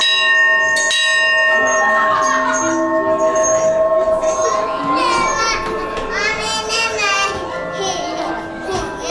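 A bell rung at Sanrio Puroland, struck once sharply then ringing with long overlapping tones, while children's voices and chatter sound nearby over the decay.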